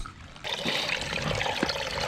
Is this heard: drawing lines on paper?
no